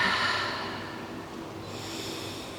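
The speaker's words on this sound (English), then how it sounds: "Let's do 3 deep breaths together." Slow, deep breathing during a beginner yoga class, soft airy inhales and exhales close by, faint and steady with no talking.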